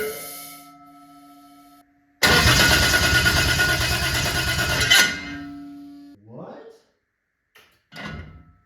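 A 2JZ engine swapped into a Toyota Celica cranks and fires for its first start, a loud rough burst of running for about three seconds before cutting out, followed by brief quieter sputters and clunks, with a faint tone and hum beforehand.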